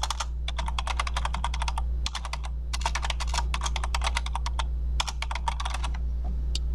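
Rapid typing on a computer keyboard enters a title in several quick clattering runs with short pauses, close and clear over a low steady hum.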